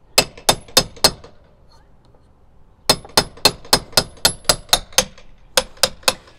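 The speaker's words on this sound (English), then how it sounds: "give it a few good whacks to get it up and underneath there" Metal pry bar being whacked under a boat bracket: four sharp clanking hammer blows, a pause, then a rapid run of about a dozen more evenly spaced strikes, close and loud.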